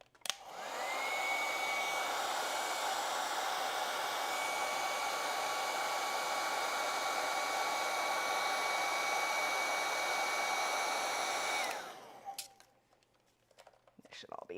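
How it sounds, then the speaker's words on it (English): A hair dryer blows with a continuous, even roar and high whine for around eleven seconds before switching off, followed by faint handling sounds. "Probably am done with the hairdryer."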